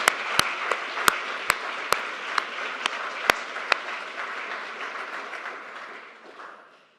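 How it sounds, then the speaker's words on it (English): An audience at a Library of Congress program honouring Jewish American veterans gives a round of applause, dense and fairly close, with a few sharp individual claps standing out before it thins and fades away. "One more round of applause."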